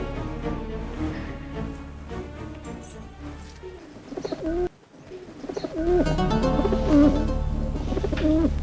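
Repeated soft pigeon cooing, close and steady, with a brief dip in the middle before the rolling coos resume.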